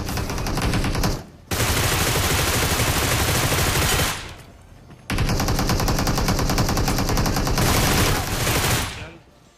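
Rapid automatic gunfire rings out in a battle royale video game, two long loud bursts of sustained fire separated by a brief pause, ending in a short tail, with no talking.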